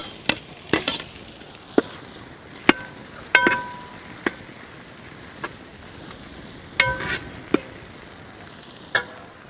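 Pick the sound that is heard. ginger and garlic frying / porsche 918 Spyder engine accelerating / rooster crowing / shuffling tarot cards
ginger and garlic frying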